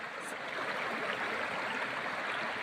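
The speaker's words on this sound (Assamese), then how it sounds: "এয়া পানী জলপ্ৰপাতৰ পৰা বৈ আহিছে।" Water from Champawati waterfall flowing steadily along the stream below it, a close, continuous rushing wash with no voices.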